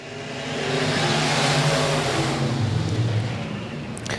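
Race cars in a heat race at Golden Triangle Raceway roar past, engines rising into a loud, rough rev that swells and then fades slightly as they move on.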